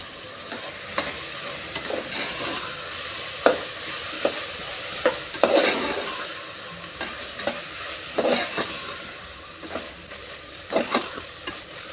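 Ground masala paste for vegetable green pulao fries in a pan, with a steady sizzle under repeated scraping stir strokes spaced every second or so, close and moderately loud, with no talking.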